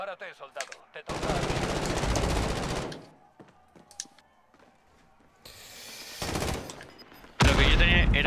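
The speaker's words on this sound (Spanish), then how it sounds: "Era la escopeta de fuego, ¿vale?" Loud bursts of shotgun-style gunfire from an incendiary shotgun in Call of Duty Warzone, two long blasts of noise separated by quieter scattered clicks and mechanical sounds, with brief game voice fragments near the start.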